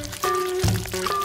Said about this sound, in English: Pour everything into the bowl.